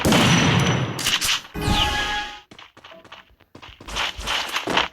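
Shotgun gunfire in a video game: loud, close blasts and bursts of shots with sharp cracks and a booming impact, followed by scattered quieter clicks and shots.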